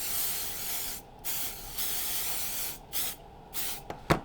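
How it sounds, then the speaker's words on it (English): Ease Release mold-release aerosol sprayed onto a silicone mold in bursts, several short hissing sprays with brief gaps between them, close and fairly loud, no talking. "In this case, this is ease release, but you can use any WD-40 like spray. So I'm going to do a good spray on this."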